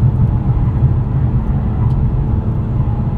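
A 2024 Acura TLX Type S with all-wheel drive pulls hard out of a corner, its engine and road noise forming a loud, steady low rumble heard from inside the cabin, with no talking.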